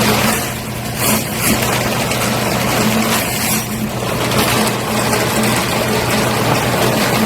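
An electric drain cleaning machine spins its spring cable with a continuous loud motor rumble and rattling whir, steady throughout at close range.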